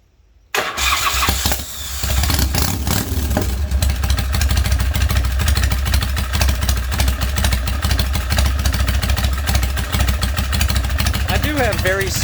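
A Harley Big Twin Springer bobber motorcycle with small exhaust baffles fires up after a brief starter crank, then settles into a loud, steady, close-up idle with a lumpy, throbbing beat that carries on alone to the end.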